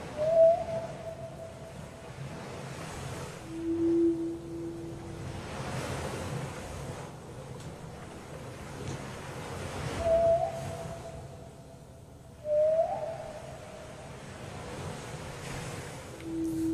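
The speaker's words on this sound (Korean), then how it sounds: "고래 소리 들어봐." Deep-sea whale calls sound as long, tonal moans and rising whoops, several spaced apart over a hushed, washing ocean ambience, with no talk.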